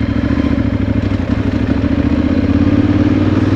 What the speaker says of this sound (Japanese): この排気音マフラーの音なんかをこう実際こう1年乗ってみて